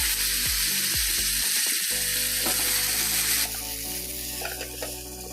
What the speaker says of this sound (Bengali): এবার আমি ভালো করে পটল আলুটা ভেজে নেব।